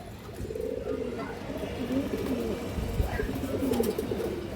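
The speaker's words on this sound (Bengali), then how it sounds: "লাল টাকি চোখের মাকড়া কবুতর দর্শক" A red-eyed Makra pigeon in a coop, with soft, low rolling coos continuing close by and someone talking faintly in the background.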